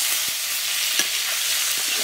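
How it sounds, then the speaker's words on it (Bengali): Potatoes fry in oil in a pan, a steady bright sizzle with faint stirring clicks and scrapes, close and continuous, with no voices. "আলুগুলো সুন্দর লাল লাল ভাজা হচ্ছে"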